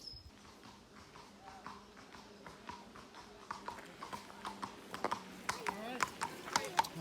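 A large horse's hooves clip-clopping on pavement, a steady walking rhythm that grows louder as the animal comes nearer, with voices faintly audible in the background.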